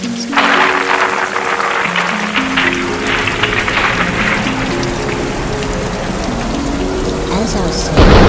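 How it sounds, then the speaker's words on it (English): Heavy rain pouring down in a winter storm, a dense, loud, continuous roar that holds steady for about eight seconds with no clear thunder. "It is raining hard, and it's cold as heck out there."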